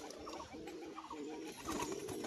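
Tumbler pigeons give soft, repeated throaty coos, faint and somewhat distant, over a light background hum.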